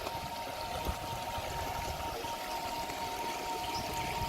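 Mountain stream in the Snow Mountain Wilderness flowing steadily, a continuous broad rushing wash close by with no talk.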